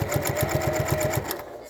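A Bernette 08 sewing machine stitching quilt binding, its needle thumping in a fast, even rhythm of about ten beats with a steady motor whine, close and clear, then stopping abruptly.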